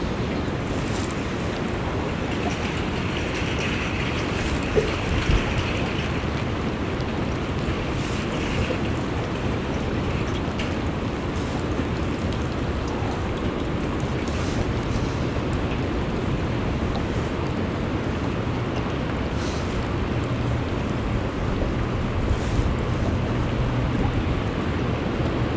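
Wind blows steadily up on a bluff and through the trees by the water, a constant broad rushing roar that stays fairly loud and unbroken for the whole stretch.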